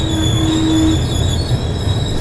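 A passenger train at a railway station with mountains and fields behind it, giving a loud steady rumble with a sustained wheel squeal for the first second, then continuing rolling noise, no voices.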